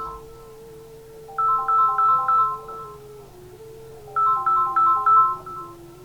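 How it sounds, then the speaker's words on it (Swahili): A mobile phone rings with a bright, melodic ringtone. The tune plays in two loud repeated bursts over a lower sustained tone, close and clear with no talking. "Naomba nipokee simu."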